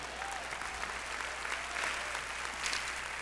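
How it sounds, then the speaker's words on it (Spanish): A church congregation breaks into steady applause, a soft, even wash of many hands clapping at a moderate distance throughout, with faint voices and shouts mixed in. "Dale un aplauso al Señor."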